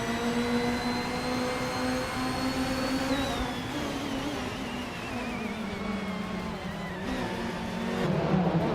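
BTC race cars, among them a 1993 Peugeot 405, pull away at the race start at Ruapuna Park; a steady blend of engines drones loudly throughout, with pitch shifts as they accelerate and no talking.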